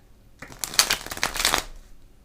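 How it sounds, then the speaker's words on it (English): A deck of tarot cards riffled and shuffled in a quick burst of crisp, fluttering slaps lasting about a second, close to the microphone, with no talking. "Shuffle up and start laying the cards out."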